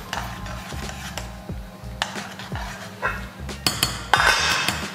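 Someone stirs boiling peanuts in a cooking pot, giving a series of sharp metallic clinks and scrapes at an uneven rhythm. The clatter grows busier toward the end.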